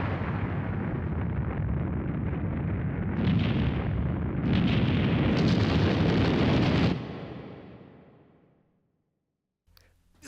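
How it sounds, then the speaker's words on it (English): A fiery explosion as the boss Bat dies in the video game Digital Devil Saga, a loud sustained roaring blast that swells in stages, then fades away to silence over a couple of seconds. "we have the satisfaction of Bat dying in a horrible fiery explosion as well"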